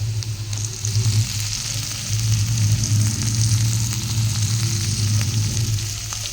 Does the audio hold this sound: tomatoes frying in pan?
yes